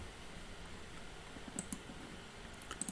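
A computer keyboard being typed on while setting a value in software for a U-joint assembly, producing a short burst of light, faint clicks after a quiet stretch.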